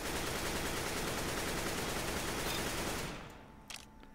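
Sustained automatic rifle fire on a Counter-Strike: Global Offensive recoil practice map, a dense rapid stream of shots for about three seconds that then cuts off, leaving a few faint clicks.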